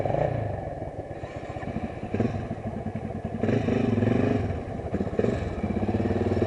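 A Honda Dominator motorcycle engine thumps nearby with a steady single-cylinder chug, rising and falling in loudness as the throttle opens at an outdoor spot in Florianópolis.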